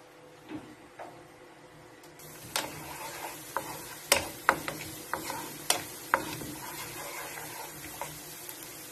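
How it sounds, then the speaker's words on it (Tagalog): Garlic frying in reused hot cooking oil, with a steady background hiss and a series of sharp stirring clinks and scrapes from a utensil against the pan, close and moderately loud, no talking. "igisa po natin ang ating bawang"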